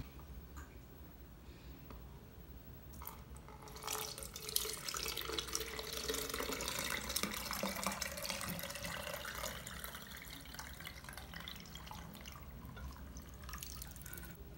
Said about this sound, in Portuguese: Eu vou colocar aqui uma peneira, um potinho, e essa água depois eu uso na sopa, no arroz.